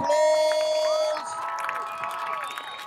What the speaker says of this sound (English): give our 2023 senior graduates a big round of applause.